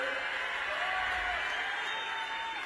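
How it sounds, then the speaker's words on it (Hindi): Applause from a crowd at a BJP political rally in the Darjeeling hills, a steady dense wash of clapping lasting a few seconds with no clear gaps. "जोर से ताली बजाइए जरा"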